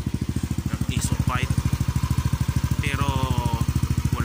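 A Yamaha Aerox 155 scooter idles close by through an Exos X-6 exhaust pipe, a loud, rapid, even engine pulse throughout, with someone talking over it.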